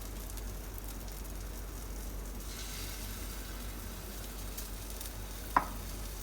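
A Karachi bun kabab frying in oil with egg gives a soft, steady sizzle at low volume, with one brief sharp tap near the end.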